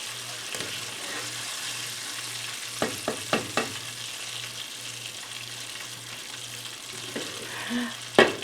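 Shrimp deep-frying in oil, a continuous close sizzle and crackle with a low steady hum beneath it and several sharp clicks and taps of utensils partway through.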